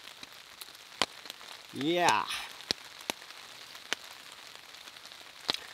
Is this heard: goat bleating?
no